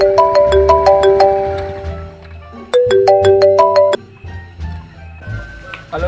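A bright electronic ringtone melody plays in repeated tinkling phrases, fairly loud, before fading into low background noise and faint voices.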